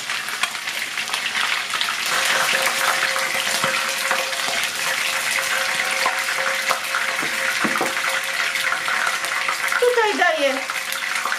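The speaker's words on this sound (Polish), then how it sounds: "i podsmażamy znów kilka minut do zarumienienia" Chicken legs sizzle in a frying pan as they brown, giving a continuous, close, loud crackle with a few brief tonal sounds near the end.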